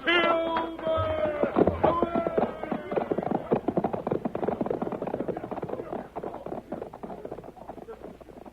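Galloping hoofbeats of horses pulling a stagecoach along a creek road in an old 1938 radio drama, a dense, fast clatter that starts over a brief music sting and keeps up steadily at moderate loudness.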